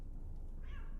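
A single brief cat meow sounds faintly midway through, over a low, rumbling background hum with no talk.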